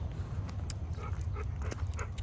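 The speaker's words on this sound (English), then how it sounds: "His play date produced some cute puppies." Puppies whimper and yip faintly in an outdoor yard, with soft, intermittent high cries over a steady low background rumble.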